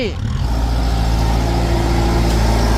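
A Kubota L4708 tractor pushing dirt in low gear drones with a loud, steady diesel engine hum close by, a brief sweep at the start before it settles into an even tone.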